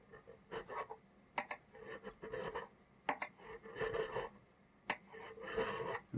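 A metal file rasps across the frets of a Gretsch Jim Dandy guitar near the B string. Short bursts of scraping strokes come in quick groups, close and fairly quiet, with brief pauses between passes.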